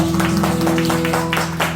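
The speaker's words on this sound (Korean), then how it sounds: "우리 축복 박수" A church congregation claps in blessing during a Sunday student-group worship service, with quick bursts of hand claps over a steady tonal hum of music or room sound.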